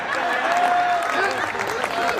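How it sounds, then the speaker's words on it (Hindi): An audience claps at a Hindi comedy poetry gathering in Sonipat, Haryana, with moderate continuous applause beneath a speaking voice. "ये वही लोग ताली बजा रहे हैं"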